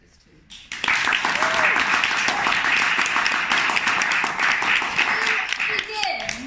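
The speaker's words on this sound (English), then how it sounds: "give yourself a round of applause for giving the time to this too" Audience applause at a university LGBTQ+ monologues event, sustained dense clapping that starts abruptly and fills the room, with a faint voice under the clapping.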